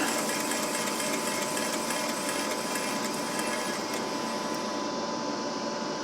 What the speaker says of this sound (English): I'll do that with the 4-inch angle grinder and a cutoff wheel on it.